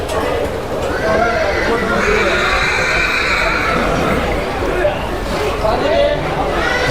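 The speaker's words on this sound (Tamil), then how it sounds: "இந்த டென்ட்டுக்குள்ளே நிறைய குதிரை இருக்குது" Many riding horses kept inside a tent at a temple festival neigh and whinny loudly and close by, with hooves clopping and a crowd chattering in the background.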